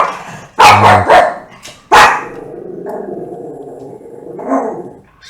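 A dog lets out a couple of sharp, loud barks close by, the second after a short pause, trailing into a lower grumbling growl.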